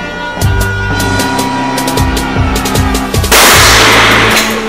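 Glock 17 and Glock 21 Gen 4 pistols firing at a shooting range, a string of sharp reports in uneven rhythm, loud and close, with a dense burst near the end.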